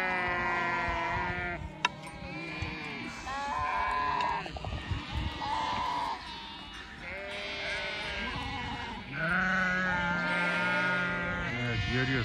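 Sheep and lambs bleat repeatedly on an island in fine weather, several overlapping calls near and far, some high-pitched lamb cries mixed with deeper adult bleats.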